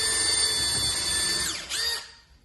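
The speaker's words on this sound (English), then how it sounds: "we're just going to kind of pre-drill in like this" Power drill pre-drilling into a kitchen cabinet filler strip, a steady whirring whine that rises and falls in pitch as the bit bites, then winds down and stops.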